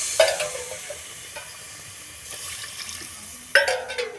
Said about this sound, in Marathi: दोन गिलास पाणी घालूया